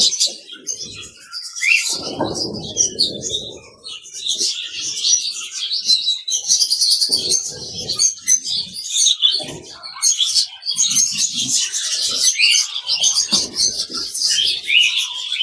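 A flock of birds, including pigeons, chirps and coos busily while being fed grain little by little, a dense, close chorus of tweets with scattered rustling and pecking.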